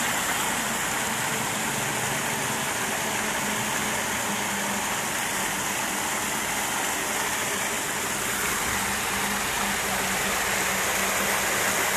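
Rainwater, dark and murky, rushes steadily along a canal with a constant, loud, broadband roar that holds unchanged throughout, without any voices.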